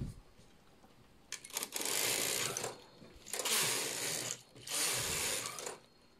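A home knitting machine knits rows of lace as its carriage sweeps back and forth. There are three separate passes, each a dense ratcheting, rattling clatter with short pauses in between. The sound is close, with no speech.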